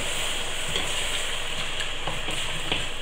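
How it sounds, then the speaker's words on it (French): A pan sizzles and hisses steadily as white wine is added to deglaze after flour-coated rabbit, a constant frying crackle with faint clicks of stirring. "je vais déglacer avec le vin blanc"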